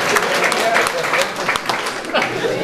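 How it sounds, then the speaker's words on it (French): Audience applauds a police commissioner at a medical days event in Bangou, Cameroon; dense clapping mixed with voices and some chuckles over the crowd noise. "Applaudissez pour le commissaire Sétio, s'il vous plaît."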